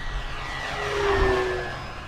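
FMS T-28 1400mm V4 RC model airplane passing overhead in flight, a steady motor and propeller drone that swells toward the middle and eases off again, heard alone without voices.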